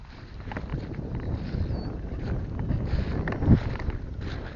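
Wind blows outdoors across the microphone, a faint, steady rushing buffet with a brief stronger gust near the end and no talking.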